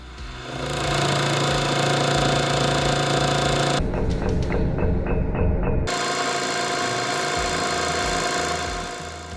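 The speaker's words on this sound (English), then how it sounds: "now about to deck 4mm off the bottom." A machine decks 4 mm off the bottom of a self-designed race engine part, making a loud, continuous grinding drone close by. Its tone shifts sharply for a couple of seconds midway before resuming.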